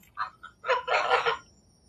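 Geese on a farm honk in a few short, loud, nasal calls close by, a quick pair followed by a longer burst of squawking, with no talk over them.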